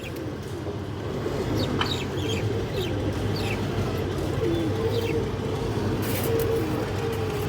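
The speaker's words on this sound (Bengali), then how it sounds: "একটা বাঘা মাদি কবুতর" Bagha breed pigeons, including a large female, coo and murmur softly in a loft among other birds, with brief chirps and a faint clucking background while someone talks over them.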